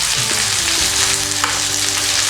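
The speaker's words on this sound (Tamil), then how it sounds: "2 சைடும் நல்லா ப்ரௌன் ஆக வரைக்கும் அதை வறுத்து எடுத்துக்கலாம்" Fish fries in oil in a pan for an Orissa-style fish masala, giving a loud, steady, close sizzle and crackle throughout with no talking.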